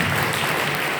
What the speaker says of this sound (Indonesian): Kita berikan aplaus buat mereka semua.